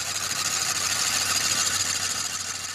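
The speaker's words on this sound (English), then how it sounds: "The fact that this engine will barely start on petrol, I'm not that surprised that it struggles with anything less." An old reclaimed farm engine with a major fault, struggling to run, gives a loud, steady mechanical drone with a rough buzzing texture that continues unbroken for the whole stretch.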